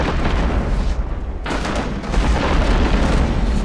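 Ship cannons in the naval combat game Abandon Ship let loose a loud, dense barrage of booming shots that roll into one another, with a short dip before a second heavy volley.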